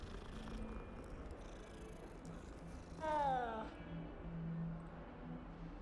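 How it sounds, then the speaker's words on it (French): Cats in the video game Hogwarts Legacy give a soft, quiet purring, with a brief meow-like call midway, beneath a person talking. "Il y a plein de chats."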